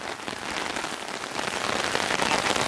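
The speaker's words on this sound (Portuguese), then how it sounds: "A chuva tá vindo desse lado" Heavy rain pours steadily during a storm at a construction site, a dense, even hiss of drops beating on surfaces that grows a little louder toward the end, with no voices.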